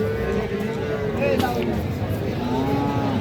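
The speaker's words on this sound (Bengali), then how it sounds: "এটা ক্রোজ জাতের একটা বকনা বাছুর পুরোপুরি পঞ্চাশ হাজার টাকা" Cattle mooing at a cattle market at Raniganj haat, several drawn-out, wavering lows near and farther off amid crowd murmur and people talking.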